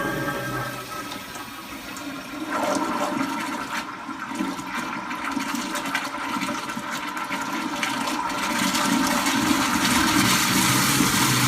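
A toilet fitted with a Sloan auto flush valve flushes with a loud, steady rush of water that swells and keeps running, heard alone and close.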